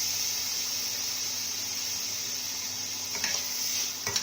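Chopped tomato fries with browned onion in a hot pan, a steady soft sizzle and hiss with a few faint stirring scrapes toward the end.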